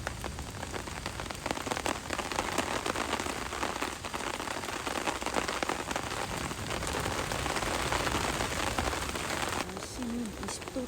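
Rain falling at a campsite in a small hot-spring town in Japan: steady, dense patter of drops on surfaces, close and continuous throughout.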